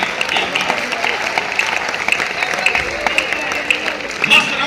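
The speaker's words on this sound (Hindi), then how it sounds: "तालियां थोड़ी बजाई आपने।" Audience applause at a Hindi poetry recital: a dense, steady wash of clapping from a crowd, with a few claps standing out near the end.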